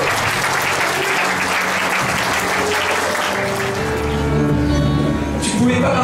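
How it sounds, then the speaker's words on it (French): A church congregation at a healing and deliverance service in Mauritius bursts into loud, sustained applause that holds steady for the whole stretch, with faint voices and tonal sounds woven underneath. "applaudissez."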